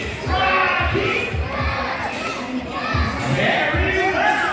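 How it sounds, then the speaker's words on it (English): Boys in a crowd cheer and shout for Rocky the parrot at a bird show at Manila Ocean Park, a loud, dense mass of young voices chanting rhythmically and continuously throughout. "All the boys will cheer for Rocky"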